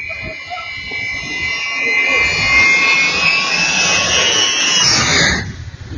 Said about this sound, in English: An airplane just flies by right beside you